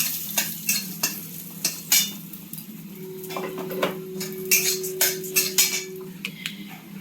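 Dried red chillies and whole spices fry in oil in a pan while a spatula stirs, giving a continuous sizzle broken by sharp metallic scrapes and taps, close and moderately loud over a low steady hum.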